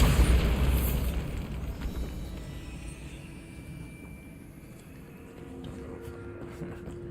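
A Bombarda blasting spell explodes in the video game Hogwarts Legacy, opening with a loud, deep boom that rolls into a long rumbling decay with debris-like crackle, fading gradually to a low background hum.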